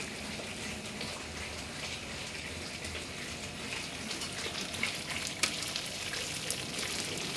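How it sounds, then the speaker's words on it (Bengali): Homemade ghee bubbling and spattering in a pan as it cooks down, a steady dense crackle with scattered sharper pops, loud and continuous with no talking. "এবারে এই ছিটে পড়তে লেগেছে, একটু সাবধানে দূর থেকে করব"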